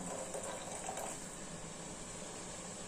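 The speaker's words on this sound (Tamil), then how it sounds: "இப்போ புளித்தண்ணி ஊற்றிக்கலாம்" Tamarind water poured into a simmering brinjal and field bean curry in a home kitchen, a steady close liquid pour and splash running throughout with no talk.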